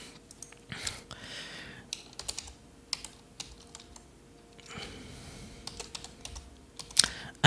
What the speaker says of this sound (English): So we can just go ahead and type in the name of that sensor.